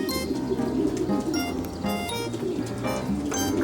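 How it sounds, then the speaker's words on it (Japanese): Racing pigeons cooing in a loft, a steady run of low, throaty coos repeating close by with some chirps over a constant background. "今日も頑張ってねって鳩たちが言っております。"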